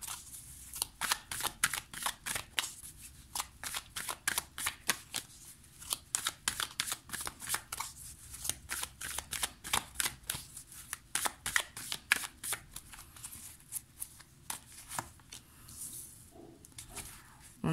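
Luna Somnia tarot cards being shuffled by hand, a long run of quick crisp riffling flicks and soft slaps repeating steadily at close range with no talking.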